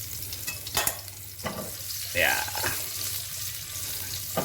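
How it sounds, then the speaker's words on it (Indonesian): Garlic, eggplant and shallots sizzle steadily in a pan while a utensil scrapes and stirs them, with a few sharp clinks, and a voice speaks briefly. "Bawang putihnya udah bisa kita satuin sama teman-temannya, terong dan bawang merah yang udah kita goreng."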